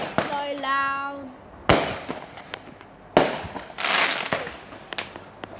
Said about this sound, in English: Still doing fireworks.